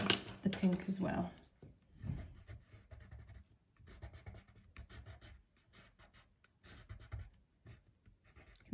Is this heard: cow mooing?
no